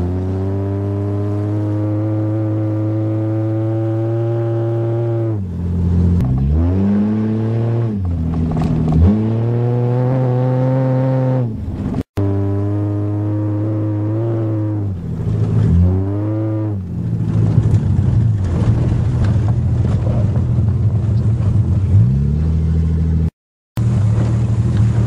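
A 1982 Toyota Cressida driving in rain, its engine revving up and down through repeated gear changes with a close, loud, rising and falling drone and a wet road hiss later on.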